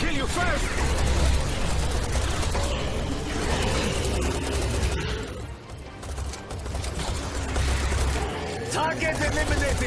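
Gunfire from the first-person shooter Serious Sam 4, a dense rapid clatter of weapon shots and mechanical clicking running throughout, with people talking over it.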